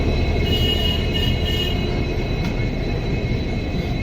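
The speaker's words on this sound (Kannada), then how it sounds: "ಈ ಸದ್ದು ಹುಬ್ಳಿಂತ್ರ ಹೊರಡು ಟ್ರೈನ್ ಅಂತ ಹೇಳ್ಬೇಕಂದ್ರೆ ಈ ಹುಬ್ಳಿ ಚಿತ್ರದುರ್ಗ ಒಂದು ಹೊಡತ್ರಿ 7:10 ನೋಡ್ರಿ." At Hubli station, the Hubli–Chitradurga train pulls out with a continuous, moderately loud rail rumble and a faint high whine, steady and unbroken, with no voices over it.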